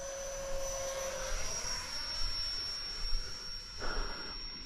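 Tiny MB-339 model jet flying with a steady whining engine tone and a high sustained pitch, moderately distant, continuous throughout with a brief closer swell near the end.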